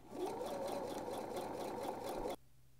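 A sewing machine runs a regular straight stitch along a seam of a sleeve lining, with a close, steady rhythmic whir lasting about two seconds and then stopping abruptly into near silence.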